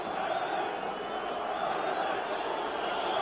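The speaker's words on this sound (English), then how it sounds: "The Bulgarian crowd trying to encourage the team to get forward." A Bulgarian football crowd at a 1987 match against Ireland chants and cheers on their team, a steady, distant roar filling the stadium with a commentator talking over it.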